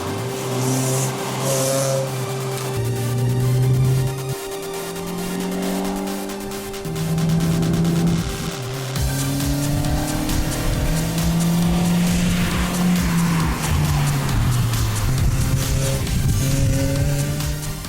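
A race car weaving side to side on a track to warm its tires, engine revving up and down in repeated surges with tire squeal and skidding, loud and close throughout.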